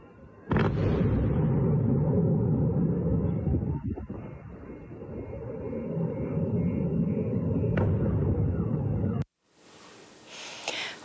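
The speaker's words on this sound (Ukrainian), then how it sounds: "На оприлюдненому Федоровим відео чутно серію вибухів." Sharp blasts break through a continuous heavy roar, with several separate booms spread across the clip before it cuts off abruptly.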